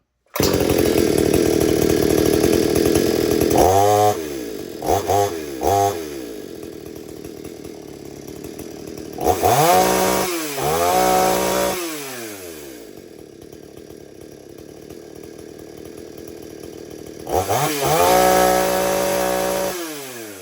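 A chainsaw fires up after its low-speed carburetor screw is turned a quarter turn out to richen the mix, revving in several loud bursts between a slower, rough idle, close by with no talk.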